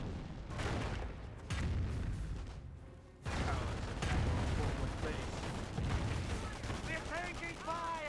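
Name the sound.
gunfire in video game Company of Heroes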